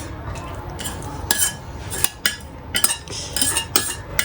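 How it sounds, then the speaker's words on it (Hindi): Vegetables being tipped into a pan and stirred with a metal utensil while cooking, a string of sharp clinks and scrapes against the cookware, close and fairly loud with no voices. "अभी हम इसमें डालेंगे अपनी वेजिटेबल्स।"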